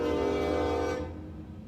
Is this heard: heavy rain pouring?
no